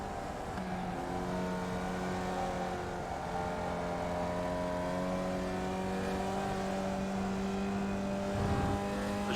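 Steady buzzing engine note of a Formula Vee race car lapping Lime Rock Park in iRacing, holding a constant drone with gradual pitch changes and a brief rumble near the end, with no talking.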